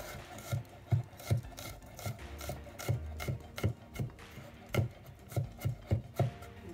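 A knife chops crushed garlic on a wooden board for an anchovy cauliflower gratin, a steady run of close, crisp, fairly quiet knocks about two per second, with nothing else heard.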